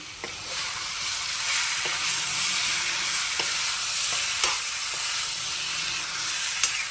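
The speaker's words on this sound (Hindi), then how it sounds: "तो इसे हम अच्छे से 5 से 7 मिनट तक लो टू मीडियम आंच पे फ्राई करेंगे।" Jackfruit curry frying over low to medium heat in a pan, a steady bright sizzle with intermittent scraping clicks of a spoon stirring, no voices.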